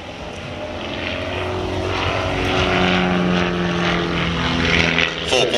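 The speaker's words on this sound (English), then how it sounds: "So this is a factory aircraft. It's not an S1E, it's an S1S." A factory-built Pitts S1S biplane at an air display in Ayr, propeller engine droning loudly overhead, swelling slightly as it passes and holding a steady roar throughout.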